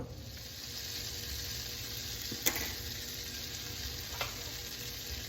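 A vinegar-based BBQ sauce simmers and sizzles steadily in a pot, a continuous frying hiss with a couple of faint clinks partway through and no talking.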